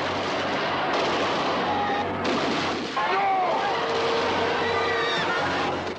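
Gunfire and loud battle noise fill a 1971 Columbia Pictures film trailer about Bloody Sunday in 1905, a dense continuous roar of shots and turmoil with music and crowd sound mixed in.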